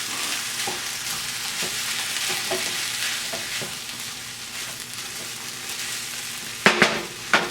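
Beans sizzle in a hot pan during steady frying, with soft intermittent scraping from stirring and a couple of sharper clanks near the end.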